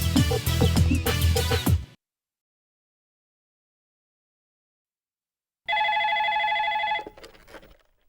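Loud music cuts to silence, then a telephone rings with a steady electronic trill for over a second before stopping.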